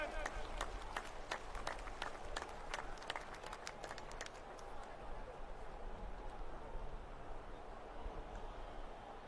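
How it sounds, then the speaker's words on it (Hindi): Applause from a crowd at a BJP political rally in Gurugram, a burst of clapping that rises early and fades away toward the end under a murky, low-level background. "एक बार जोरदार तालियों से अभिनंदन।"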